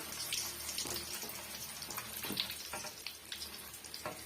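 Flattened rice (aval) dropped into hot oil while making spicy boondi and omapodi, giving a steady crackling sizzle with scattered pops across the few seconds, with no talking.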